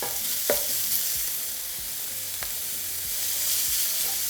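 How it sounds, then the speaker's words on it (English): Carne asada meat sizzles in hot oil in a skillet, a steady bright frying hiss with a few sharp pops and stirring scrapes, close and continuous. "once it's nice and hot, we're going to add our meat"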